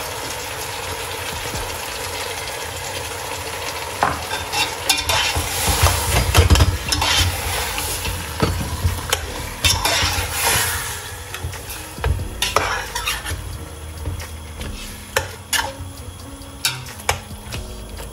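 Turkey stew spiced with two spices sizzles and fries in a pan while tomato is stirred in, steady frying hiss under scattered scraping and clinking stir strokes, close and fairly loud, no speech.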